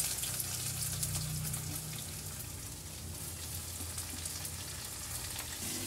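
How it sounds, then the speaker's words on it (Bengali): Two medium onions, chopped fine, frying steadily in a hot pan with a continuous close sizzle that holds through, with no voices. "এইভাবে ভেজে নিতে হবে, পেঁয়াজটা ভালো করে লাল লাল করে ভেজে নিতে হবে।"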